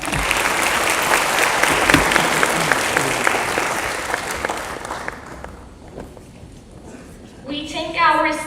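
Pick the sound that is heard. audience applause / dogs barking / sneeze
audience applause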